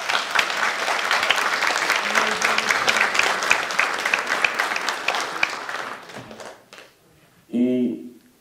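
An audience in a hall claps loudly and steadily for several seconds. The applause fades out, and then a voice briefly speaks.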